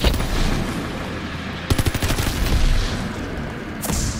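Gunfire in Call of Duty Vanguard Zombies, with a rapid string of close, sharp shots in the middle and a single loud blast near the end over constant background game noise.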